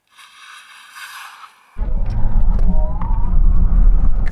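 A Lucid Air electric car launches hard from a standstill: after a quiet moment a sudden loud, deep roar of wind and road noise surges in and holds steady, with a faint rising electric whine.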